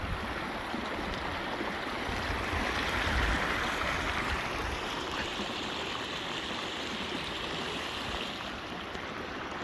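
Rainwater running over an eroding road ahead of storm Hilary, a steady, rushing wash of flowing water heard close and continuous with no talking.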